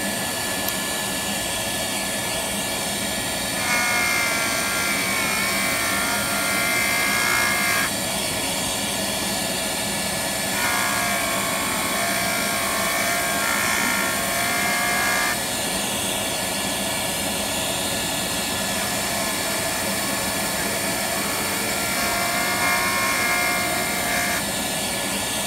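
A Jooltool fine wheel sands down a flaky, mushy crystallized stone cabochon at a Tucson show, giving a steady whirring grind that swells in louder bursts against constant background hum.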